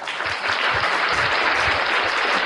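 A crowd applauds for online community members at a gathering in Indonesia, with continuous dense clapping that swells slightly after the start and holds steady.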